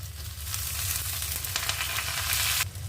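Shallots, ginger, garlic and thoothuvalai leaves sauté together in a pan for a thuvaiyal, giving a steady close sizzle with faint stirring scrapes that cuts off abruptly at the end.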